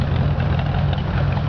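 A 1953 Ford Sunliner convertible with a flathead V-8 and dual exhaust idles close by, giving a steady, low, even rumble with no talk over it.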